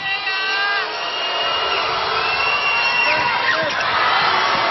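Volleyball arena crowd at a UAAP semifinal between De La Salle and Ateneo jeers Bea Pascual with a loud, sustained roar of whistles and hoots, while a commentator speaks over the noise.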